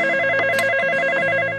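A telephone rings in a home scene, a loud, continuous electronic warble with steady pulsing tones that runs for the whole moment without any talk.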